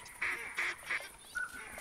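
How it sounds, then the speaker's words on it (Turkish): Ducks in the Rougarou Bayou of the hunting game theHunter Classic give four short, loud nasal quacks in quick succession, close and clear over quiet ambience. "Ördek var."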